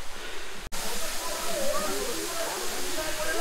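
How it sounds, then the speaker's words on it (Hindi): Jhinkra Waterfall in Keonjhar drops water from above with a steady broadband rushing hiss, loud and continuous apart from one brief cut near the start. "ये वाटरफॉल देखिए गाइस किस तरीके से ऊपर से नीचे पानी गिर रहा है"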